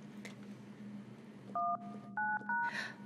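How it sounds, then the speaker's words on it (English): Telephone keypad tones from the Luto video game: three short, clear dial beeps in quick succession over a low steady hum, with a faint tap before them and a soft rustle after. "we can dial four digits"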